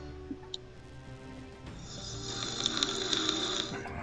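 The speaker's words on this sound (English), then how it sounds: "Boy, Effie's snoring up a storm." A person snores at a fairly low level, with rasping, rattling breaths that build and grow louder toward the end.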